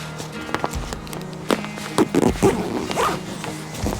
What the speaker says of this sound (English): Very strong zip.